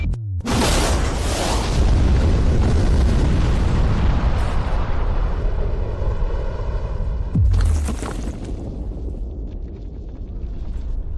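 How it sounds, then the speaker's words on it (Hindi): A huge, deafening explosion erupts and roars on for several seconds, followed by a second blast and a long rumbling tail. "ये एक असली धमाका है"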